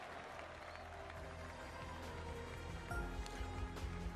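Golf gallery applause from a crowd beside a course lined with grandstands and hospitality tents in PGA Tour 2K23, a steady wash of clapping and cheering that swells near the end.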